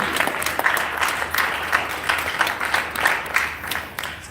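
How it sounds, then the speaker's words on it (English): Audience applause fills a town hall celebrating art and culture in Harlem, a dense, steady wash of many hands clapping that holds throughout without pause. "Give yourselves a huge round of applause."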